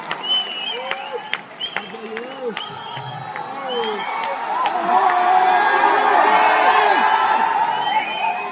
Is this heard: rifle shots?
no